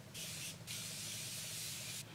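Makeup setting spray mists onto a face in a few quick, close hissing bursts, one short and one long, with a third starting at the end; quiet room, no talking.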